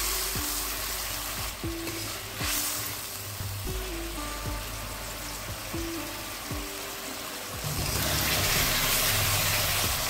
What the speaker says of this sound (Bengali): এটা মশলাটাকে কষিয়ে নেওয়ার জন্য, যাতে কড়াইতে না লেগে যায়